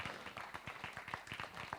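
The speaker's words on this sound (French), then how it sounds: "Mais on peut l'applaudir, vous avez raison." A live audience applauds in tribute to a neighbourhood activist at a Bordeaux Maritime neighbourhood council meeting, with a sustained, moderately quiet patter of many hands clapping together and no talk over it.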